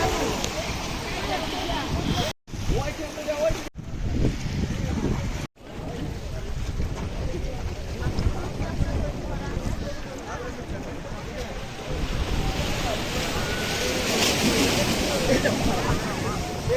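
Sea waves at Digha beach on a crowded winter morning, a continuous loud rushing surf mixed with heavy wind buffeting the microphone and a few abrupt cutouts, while a man exclaims over it.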